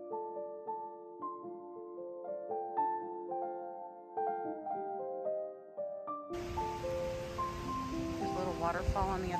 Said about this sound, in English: you can hear as it churns through the rapids over here